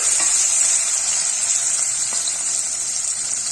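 Steady, loud sizzling of food sautéing in a frying pan for a rice dish, a continuous bright hiss with faint stirring underneath and no voices.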